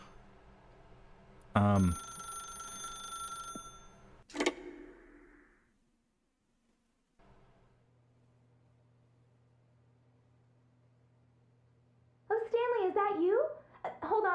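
A telephone in The Stanley Parable rings with a bright, bell-like tone for about two seconds, followed by a short second burst. Near silence and a low hum follow before a voice speaks at the end.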